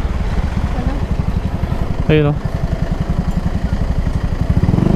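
A Mio i 125 motorcycle engine running close by, a steady low throbbing putter throughout, with a short voice and a brief whistle-like tone over it partway through.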